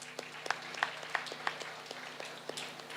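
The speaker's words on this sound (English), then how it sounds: "Give a big round of applause to them," Scattered hand clapping from a modest audience at a college success meet, faint and sparse, with a few distinct claps standing out over a soft room hum.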